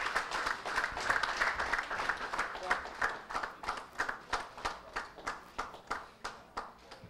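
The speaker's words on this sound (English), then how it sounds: "A big round of applause for." An audience at an Indian government tourism ceremony applauds, steady rhythmic clapping that is fairly quiet and distant, settling into a slower, more even beat as it continues.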